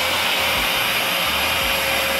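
A Bolde vacuum cleaner runs steadily at close range, a loud, constant high-pitched whine and airy rush with faint low bumps underneath and no voices.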